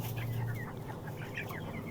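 Broiler chickens about 23 days old cluck and murmur in a poultry shed, a soft, continuous chorus of overlapping calls from a flock nearby.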